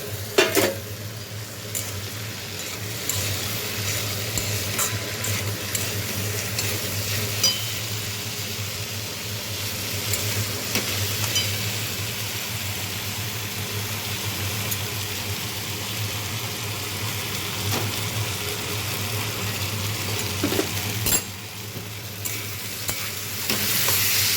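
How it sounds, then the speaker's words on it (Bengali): Potato and cauliflower frying in a pan with dal and ginger paste for dalia khichuri, a steady close sizzle with occasional scrapes and clinks of the spoon against the pan, no talking. "এবার আমি আলু ফুলকপিটাও ছেড়ে দেবো এর মধ্যে"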